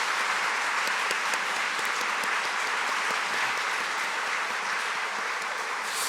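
A church congregation applauds at a Korean all-generations worship service, a steady, dense wash of many hands clapping that fills the room evenly from start to finish with no voices on top.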